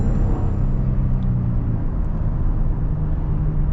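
A 2022 Toyota Tundra SR5 TRD Off-Road with a twin-turbo 3.5-liter V6 cruising, heard from inside the cab as a steady low drone and road rumble, with no voices over it.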